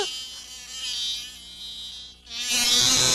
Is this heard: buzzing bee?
yes